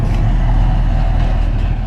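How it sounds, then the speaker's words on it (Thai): Cars and trucks roll past on a nearby road, a loud, steady low rumble of engines and tires heard continuously from close range. "รถวิ่งบ่อยครับ"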